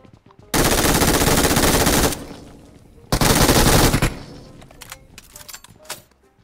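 Loud bursts of rapid automatic gunfire in the mobile battle royale game PUBG Mobile: two sustained volleys of roughly a second and a half each, followed by scattered sharper single shots and smaller bursts trailing off.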